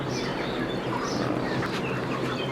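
Chickens cluck and chirp faintly over a steady background hum, with scattered soft bird calls throughout.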